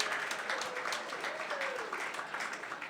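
A winery-hosted film community gathering breaks into applause, a modest, fairly distant patter of clapping hands holding steady throughout, with faint voices mixed underneath.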